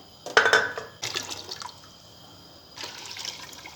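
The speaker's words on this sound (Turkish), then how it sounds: "6 litre sıcak su ekliyoruz üzerine." Six litres of hot water poured over soaked dried beans for Turkish aşure, heard as close splashing bursts into a pot that fade into lighter trickling, with no talk.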